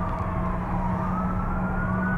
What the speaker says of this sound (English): Ominous police sirens while we're here investigating a murder story.